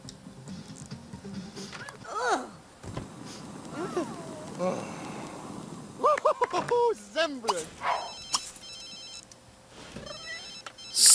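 A telephone ringing in The Sims 3, with short electronic tones heard amid game sounds and someone talking over them.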